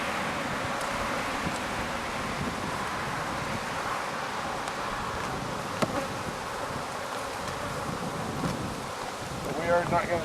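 Honeybees buzzing inside an active hive that survived the winter, a dense continuous drone of many wings close to the microphone while the colony is opened and disturbed, with brief rustles and light handling noises.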